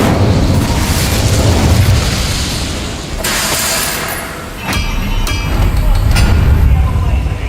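The Incendio fire spell cast in the Hogwarts Legacy video game, booming fiery bursts with crackling pops over a rumbling background, while a voice speaks during the scene.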